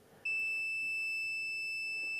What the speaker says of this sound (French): On arrive en fin de cycle, donc on va avoir un coup de buzzer.